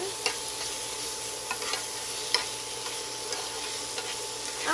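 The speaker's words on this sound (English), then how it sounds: "I like sauteing the onion and garlic before putting in the meat" Onion and garlic sizzle steadily in a frying pan for a home-style chicken adobo, a dense broadband crackle with a few soft clicks of stirring, close and continuous with no voices.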